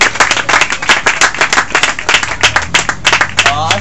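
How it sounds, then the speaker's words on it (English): A crowd claps loudly and steadily, many hands applauding together close by at a cash award presentation, with a voice briefly heard near the end. "A big round of applause."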